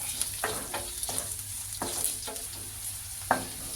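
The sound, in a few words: stirring chopped Byadgi chillies into bisibelebath mixture in pan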